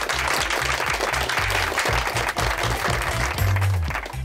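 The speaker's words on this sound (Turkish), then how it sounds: "Niye alkışlıyorsunuz?" Office colleagues clap together in a dense, steady burst of applause lasting several seconds, close and lively.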